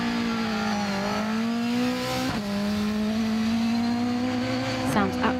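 A rally car on a stage carries its speed through a corner, its engine holding a steady loud drone with brief lifts and gear changes, heard from the roadside.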